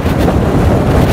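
Strong wind roars steadily across the microphone outdoors, a continuous loud buffeting rush with no break and no voices.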